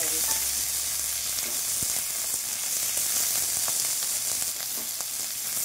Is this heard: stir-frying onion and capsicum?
yes